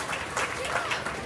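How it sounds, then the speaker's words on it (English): A crowd at a county fair mutton bustin' event gives a short round of applause, scattered clapping close by under an announcer's voice. "Give him a round of applause."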